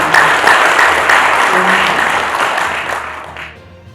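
A crowd at a Seoul private taxi association gathering applauds chairman Cha Seung-seon, steady clapping that stays loud and dense for several seconds before thinning and fading out near the end.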